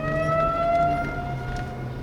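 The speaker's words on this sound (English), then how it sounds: "Tornado sirens going off in Beloit right now." Tornado sirens wail during a storm in Beloit, Wisconsin, a sustained loud tonal drone with steady overtones, heard alone without talk.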